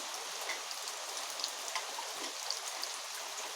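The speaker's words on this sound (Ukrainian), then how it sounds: "Влупив дощ." Steady heavy rain pours down in a dense, even hiss, with occasional drips and patters standing out against the constant wash.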